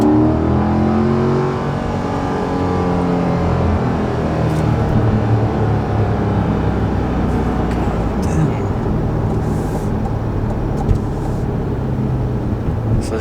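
A 2021 Chevrolet Corvette Stingray's 490-horsepower V8 rumbles and revs loudly up close, a sustained deep engine roar with shifting pitch that continues for about thirteen seconds.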